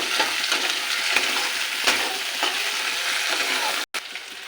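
Slit green chillies frying with onion in oil in a pan, a dense continuous sizzle with periodic scraping strokes from a stirring spatula and a brief dropout near the end.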